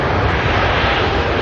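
Air New Zealand flight NZ102 from Sydney landing at Auckland Airport, a steady loud jet roar filling the short stretch with broadband rumble, no voices.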